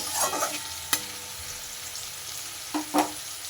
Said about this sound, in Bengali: দিয়ে ভালো করে মাছের মধ্যে মশলাটাকে আগে মিক্সড করে নেব